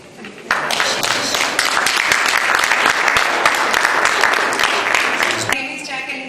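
A round of applause breaks out for a man's wife at a Newark community event, a crowd's dense clapping swelling in quickly, holding loud and steady for several seconds, then tapering off.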